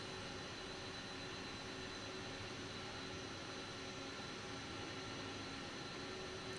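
An E-Jet airliner taking off in a flight simulator game, a dense continuous jet engine roar holding steady and loud throughout, with no voices over it.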